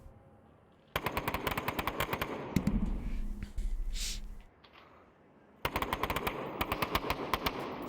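Rapid bursts of automatic gunfire in the VR shooter Onward, loud and close, in two long rattling volleys separated by a muffled stretch with heavier low thuds and a brief whoosh.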